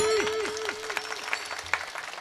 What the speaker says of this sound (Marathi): काय टाळी वाजली हो